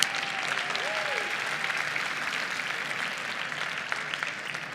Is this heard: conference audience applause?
yes